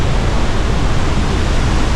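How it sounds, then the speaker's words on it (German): Niagara Falls waterfall roaring up close, a dense, steady broadband rush of falling water that fills the whole soundscape without pause. "Das Wasser geht da immer mit einer Wucht."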